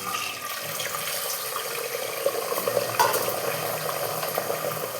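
Beaten egg sizzling in hot oil in a kadai, a continuous close hiss and crackle with small spatters, no voices.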